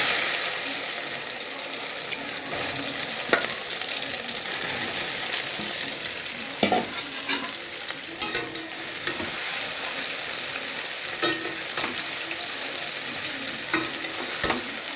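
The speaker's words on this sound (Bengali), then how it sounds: "তেল বসিয়ে দিয়েছি, এবার সোয়াবিনগুলো ভাজবো" Soybean chunks frying in hot oil, a continuous dense sizzle with occasional sharp clacks of a utensil against the pan.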